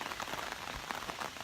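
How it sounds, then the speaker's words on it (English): Steady rain falls outdoors in Wisconsin, a dense, even patter of drops on surfaces that continues without a break, heard alone without voices. "it is raining here in Wisconsin"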